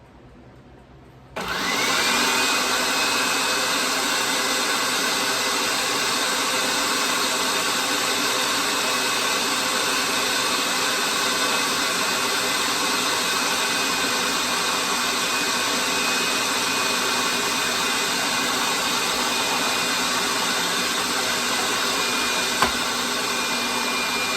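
A kitchen blender or food processor starts abruptly and runs with a steady, loud, close whirring drone while olive oil is drizzled in for a fauxtato salad, continuing without a break and with no talking.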